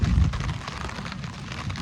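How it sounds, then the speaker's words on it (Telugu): Heavy rain falls in a village, a dense, steady roar of downpour that is loud throughout the short stretch. "వర్షం అయితే దారుణంగా ఉన్నది"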